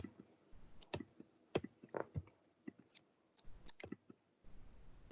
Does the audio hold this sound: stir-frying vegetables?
no